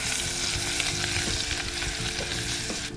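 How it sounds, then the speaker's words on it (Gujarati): Cashew and almond paste sizzling in hot ghee, a loud, dense, continuous hiss close by with faint stirring scrapes underneath. "ઘી ગરમ થઈ ગયું છે, હવે આપણે તેમાં જે પેસ્ટ બનાવી હતી તે એડ કરીશું."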